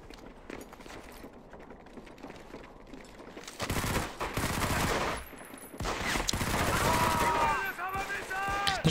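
Gunfire from above in the shooter game Medal of Honor: Vanguard, with bursts of rapid shots and sustained firing, loud and close, alongside mechanical clatter.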